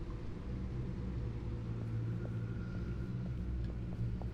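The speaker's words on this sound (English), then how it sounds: "You like my car? 600 horsepower. Listen to it purr." Sports car with a 600-horsepower engine in Batman: The Enemy Within, idling with a steady low rumbling purr, even and continuous throughout at moderate volume, with no voices.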